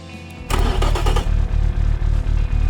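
A tuned Hyundai 1.4-litre inline-four with racing camshafts fires up in the Automation game, a sharp start burst settling into a loud, lumpy, rhythmic idle that pulses steadily and close.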